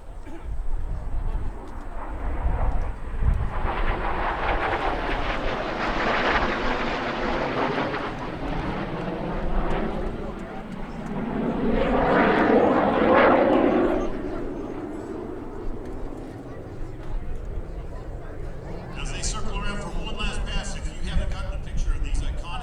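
USAF T-38 jet trainers fly past at an air show, their jet roar rising and falling in two broad sweeps under a loudspeaker announcer's continuous talk.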